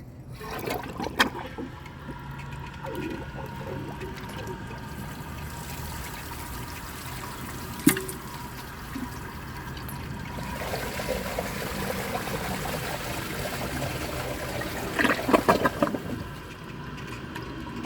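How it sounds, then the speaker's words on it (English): An AquaSource one-piece toilet tank refills after a flush, giving a steady close trickle and rush of running water with a few brief clunks and splashes, and no voices. "I am going to let the tank fill up and see if I can overflow it"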